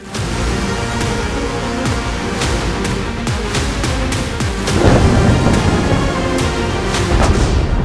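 Thunderstorm with steady heavy rain and repeated cracks and rumbles of thunder, growing louder partway through.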